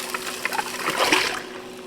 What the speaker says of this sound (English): now I'm going to go ahead and add in my coconut milk